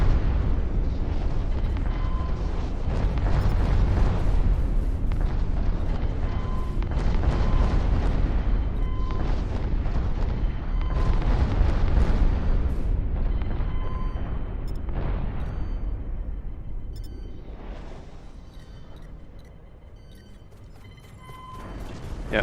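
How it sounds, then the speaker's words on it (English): Missile strikes on corvettes in the space combat game Infinity: Battlescape, a dense run of deep booming explosions and bursts rolling on continuously, loud and close, easing toward the end. "I'm gonna start firing some missiles at these corvettes once I get clear of the station."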